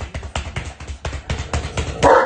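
A Great Dane barks repeatedly in a quick, uneven series of deep, close woofs and yips, ending with a louder, higher-pitched bark.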